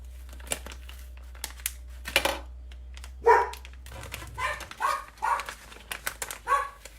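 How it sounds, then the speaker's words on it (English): Household dogs barking near a home crafting table beside a salvage business: a few sharp close barks and yips in bursts over a low hum, with rustling and crinkling in between. "Sorry about the dogs. They like to bark at every little thing."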